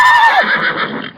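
A single horse neighs loudly and alone, a bright whinny that trails off over about a second, staged as a sound effect in a comedy skit.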